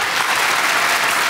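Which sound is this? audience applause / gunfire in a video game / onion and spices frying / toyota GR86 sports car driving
audience applause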